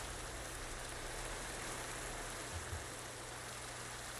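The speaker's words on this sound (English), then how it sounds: "It's raining." Rain pours steadily in a blocky survival video game, a soft continuous hiss of falling water with a low rumble underneath and no voices.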